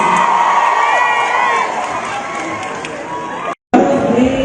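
A concert crowd cheers and shouts for a pop singer at a concert in Indonesia, a loud dense roar of voices that runs steadily through the clip, cut by a brief dropout near the end.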